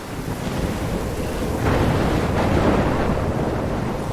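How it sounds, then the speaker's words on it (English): A video-game storm in Life is Strange, with gusting wind, crashing surf and rolling thunder swelling into a loud, turbulent roar midway before easing slightly, no voices. "I'm trapped in a storm?"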